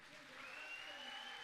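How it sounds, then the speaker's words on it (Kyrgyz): Concert audience applauding at a Kyrgyz concert, a dense even clapping that swells slightly, heard fairly faint and distant with a sustained tone from the hall over it. "Кол чаап койбойсуздарбы?"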